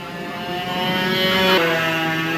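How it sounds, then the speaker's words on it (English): Ferrari with a distinctive exhaust note pulls in nearby, a steady harmonic engine drone that builds slightly and shifts pitch partway through, heard alone. "pulled in with his Ferrari with the very distinct exhaust note"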